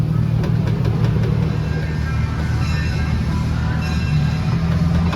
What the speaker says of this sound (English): Yeah, cute little train ride here.